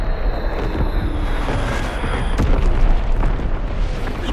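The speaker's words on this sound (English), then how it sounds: "Target position confirmed. Dropping Fritz X bomb." A Fritz X guided bomb detonates in a Call of Duty game, a loud, sustained rumbling blast with crackling debris and wind-like roar filling the whole moment, swelling slightly toward the middle.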